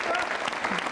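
Audience at a Yoga Day quiz show applauding a participant, a dense steady wash of many hands clapping throughout, fairly loud and close.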